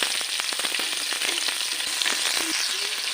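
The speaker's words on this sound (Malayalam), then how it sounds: "അങ്ങനെ നമ്മൾ എല്ലാ ചൂരക്കുട്ടന്മാരെയും വറക്കാനായിട്ട് ഇട്ടങ്ങ് കൊടുത്തിട്ടുണ്ട്" Tuna pieces frying in oil in a large pan for fish pickle, a dense, steady crackling sizzle close up with faint scraping.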